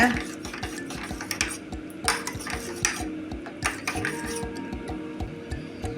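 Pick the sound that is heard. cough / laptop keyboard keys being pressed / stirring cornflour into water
stirring cornflour into water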